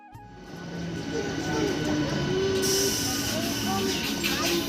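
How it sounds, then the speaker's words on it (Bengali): A train rumbles and clatters at a village station in the early morning, wheels squealing in long high tones over a steady loud rolling noise, with people talking nearby. "উঠে পড়েছি আমরা ট্রেনে"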